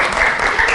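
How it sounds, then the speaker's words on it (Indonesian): Students in a junior high social studies classroom clap together in a short, loud, steady burst of applause with no talk over it. "Tepuk tangan keras kalian."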